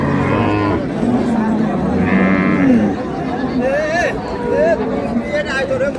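Dairy cows and calves at a rural cattle market (haat) in Dinajpur moo and bleat several times, loud and close, over a steady crowd murmur with voices talking in the background.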